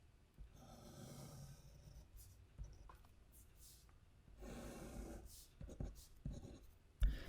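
Pen writing on paper while drawing a Mohr circle for a soil mechanics lecture, a soft continuous scratching with short strokes and pauses, faint and close.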